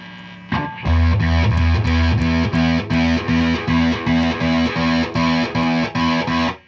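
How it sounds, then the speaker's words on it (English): Electric guitar through a prototype Fuzz Face fuzz pedal, playing a loud, heavily distorted riff of repeated chugging notes in a steady rhythm after a short opening strum. "can get into some really more distortion-like tones, kind of cocked wah sounds"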